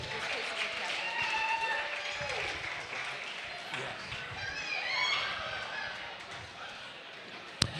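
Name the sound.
applause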